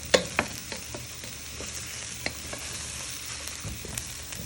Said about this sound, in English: give them a nice toss in with all them, the oil, the garlic and shallot for a minute or two